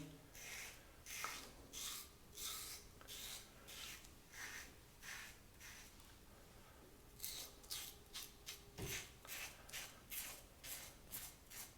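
A safety razor scrapes through beard stubble in short repeated rasping strokes, close and fairly quiet, with a brief pause midway before a faster run of strokes.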